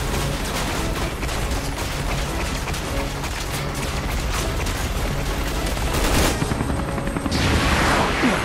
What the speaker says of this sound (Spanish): ¡El helicóptero retrocede!